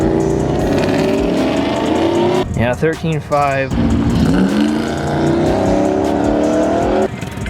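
Cam-swapped Ram truck launching down a drag strip quarter mile, a loud, sustained engine roar with rising pitch that briefly breaks and shifts midway, while a person speaks over it.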